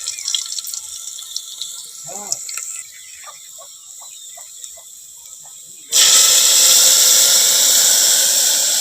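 Crushed garlic and curry leaves hitting hot oil, a sudden loud, steady sizzle bursting in after a quieter stretch of faint clicks and a brief voice.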